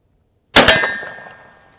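One sharp metallic clang of a shotgun-adapter round striking a steel target at a range, a bright ringing hit that decays over about a second, heard alone.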